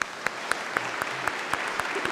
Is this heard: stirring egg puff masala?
no